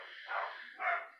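Two faint, distant dog barks sound from another room while a Toshiba Windows 7 laptop is being worked on, each bark short and muffled, with a brief pause between them.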